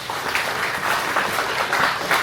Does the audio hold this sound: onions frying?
no